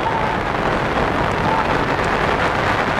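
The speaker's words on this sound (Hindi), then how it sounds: "काफी बारिश हो रही है" Heavy rain pours steadily over an outdoor football ground during a match, a dense, loud, unbroken hiss that fills the whole stretch without any clear voices.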